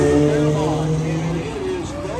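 A supercharged 2-liter, 4-cylinder 1933 Ford making 300 horsepower runs at a drag event. Its loud, sustained engine drone shifts pitch as it pulls, with a voice likely mixed into the noisy track-side roar.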